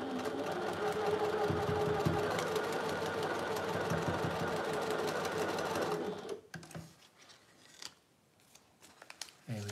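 A sewing machine stitches a quilt block seam, running in a loud, fast, continuous chatter for about six seconds before stopping, followed by softer handling clicks and rustles.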